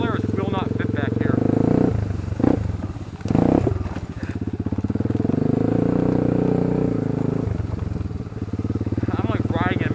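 A sport quad ATV roars along a tight wooded trail with a loud, steady engine drone that briefly revs and rattles partway through, while a rider talks over it.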